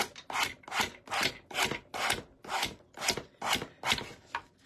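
Rhythmic rasping as a file or sanding tool smooths the cut edges of a glass Dollar Tree mason jar, about nine steady back-and-forth strokes close up and fairly loud, with no talking.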